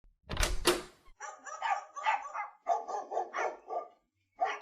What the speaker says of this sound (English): She was a bait dog who lost one of her eyes.